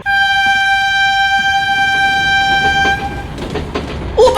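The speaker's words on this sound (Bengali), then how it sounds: "ও পাচুদা, ট্রেন ছেড়ে দিচ্ছে তো।" A passenger express train at a station platform blows a long, loud, steady horn blast close by, then the horn stops and rumbling, clattering rail noise carries on as it pulls away.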